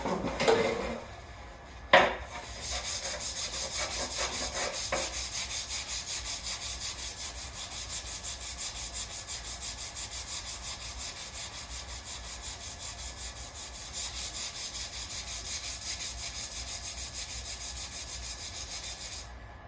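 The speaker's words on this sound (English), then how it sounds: "Now I'm going to keep sanding." Steady, continuous hand sanding of a car body with a rhythmic rasping stroke, close and fairly loud, after a couple of brief knocks at the start; no talking.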